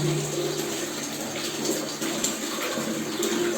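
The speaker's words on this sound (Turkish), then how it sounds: "Daha sonra bütün peteklerimizi açıyoruz. Hepsini içine tamamen hepsi suyla dolsun." Water rushes steadily into opened home radiators of a central heating system as they fill, a continuous close hiss and gurgle with no talking.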